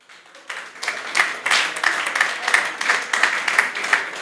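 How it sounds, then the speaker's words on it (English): An audience at a corporate golf trophy presentation gives a round of applause for sponsors, building from scattered claps into a moderate, fairly even patter of many hands with some rhythmic clapping. "I'd like us to give a round of applause to our sponsors of today."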